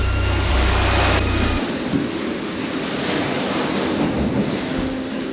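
Waves rush against the narrow bows of a Seawind sailing catamaran under a double-reefed sail in strong wind, a steady loud roar of water and wind noise with no talking.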